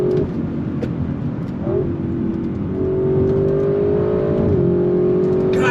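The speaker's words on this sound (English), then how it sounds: "Rocket fast shifts." A 2022 Audi RS6 Avant pulls hard under throttle, its engine a loud steady drone heard from inside the cabin, rising in pitch with quick dips where the gears change.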